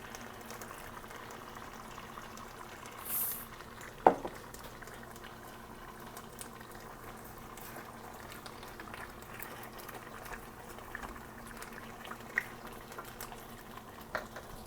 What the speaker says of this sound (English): So now we're going to let this stew for probably about 20 minutes or so